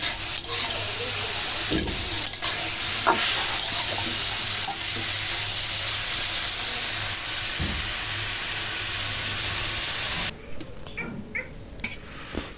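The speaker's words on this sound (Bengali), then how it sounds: "আমি এখন এই যে ভাজিটা বসাই দিয়েছি করলা ভাজি বেশি করে পেঁয়াজ দিয়েছি" Bitter gourd (karela) frying with plenty of onion in a pan, a loud continuous hiss and crackle with occasional knocks, easing slightly near the end.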